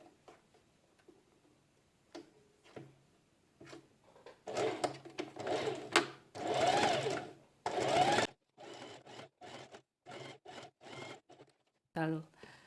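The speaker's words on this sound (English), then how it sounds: "I will take it to the machine and stitch it up to create the elastic casing." Sewing machine stitching a folded, pressed fabric casing for elastic on a gathered dress, running in several bursts of steady mechanical whirring with brief pauses between, close and fairly loud.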